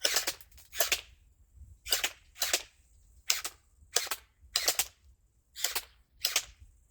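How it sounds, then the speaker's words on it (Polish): A Desert Eagle gel ball blaster pistol fires ten sharp single shots at a steady, unhurried pace, each a crisp snappy crack with a faint whir behind it, close and clear. "Dobra, pistoletem można strzelać pojedynczo."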